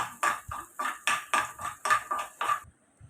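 A utensil knocks and scrapes against a pan while chopped onions are stirred for a pasta dish, with about eight close, rhythmic strokes that stop abruptly.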